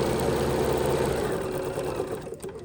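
A sewing machine fitted with a quarter-inch foot stitches in a steady, fast mechanical hum close by, running continuously and easing slightly toward the end.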